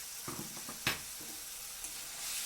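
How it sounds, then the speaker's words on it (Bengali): Spiced tomato masala sizzles in a pan while it is stirred, with steady frying hiss and a few scraping spoon strokes, one sharper clank near the middle, close and fairly quiet. "এইভাবে নাড়াচাড়া করতে করতে মশলাটাকে কষিয়ে নেব।"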